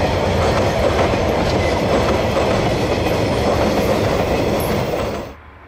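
A heavy diesel freight train hauled by DC locomotives rumbles past loudly and steadily climbing a hill near Dunedin, New Zealand, wheels clacking on the rails, before the sound cuts off abruptly.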